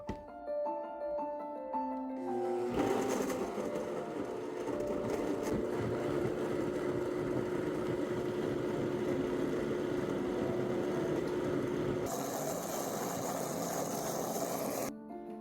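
After a brief musical intro, a blender whirs steadily and loudly while it purées tomatoes and bell peppers, and the pitch shifts near the end.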